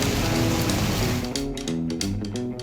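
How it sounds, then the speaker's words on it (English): Steady rain falls outside, a dense hiss of drops that stays constant, with a few brighter taps and splashes toward the end. "It's raining outside."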